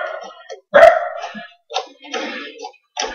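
A dog gives one loud, sharp bark nearby, set among bits of a man's speech.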